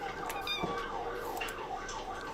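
A cat in a video game gives faint, wavering meow-like cries amid soft game sounds during a blood moon night, with some quiet speech mixed in.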